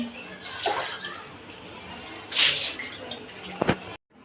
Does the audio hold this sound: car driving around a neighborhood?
no